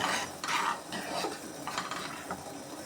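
Flour being dry-roasted in a pan for Pillayarpatti modak, heard as close scraping and stirring of a spatula against metal in short, uneven strokes.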